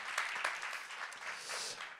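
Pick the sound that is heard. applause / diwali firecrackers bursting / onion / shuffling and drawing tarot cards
applause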